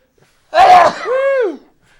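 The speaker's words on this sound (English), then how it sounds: "that's 4 times I've seen you sneeze" A single sharp sneeze close by: a breathy burst followed by a voiced, falling tail, with silence before and after.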